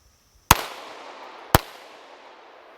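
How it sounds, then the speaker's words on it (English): Two sharp, loud gunshots about a second apart from a Volquartsen Scorpion .22 WMR pistol, each with a short echoing decay and no talking. "So the only reason why I'm shooting this different kind of ammo is to show you guys that it will cycle with different weights."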